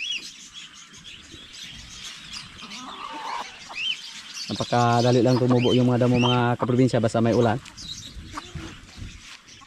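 Jersey Giant chickens chirp and cluck faintly in the background on a rural farm while someone talks over them nearby, with a loud, sustained tonal sound cutting in midway.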